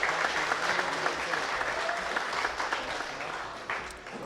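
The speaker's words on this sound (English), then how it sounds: "Please give these people a round of applause." Sustained audience applause at an election hustings for student Vice President for Welfare candidates, a dense, even wash of many hands clapping throughout, tapering slightly toward the end.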